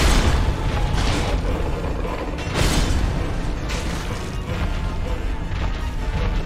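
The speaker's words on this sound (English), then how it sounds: "Forgot about the explosion." Explosion from the Demon Firesage boss attack in Dark Souls Remastered, a series of heavy booming crashes and impacts over rumbling game noise, with several loud bursts spread across the stretch.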